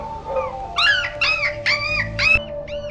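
A limping puppy in an animated film howls and whimpers in a series of rising, wavering cries, loud and close, with no talk.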